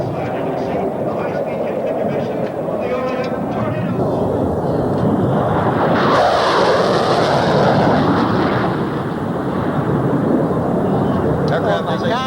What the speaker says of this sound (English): Aircraft is a supersonic aircraft. Lots of energy as he pulls back there.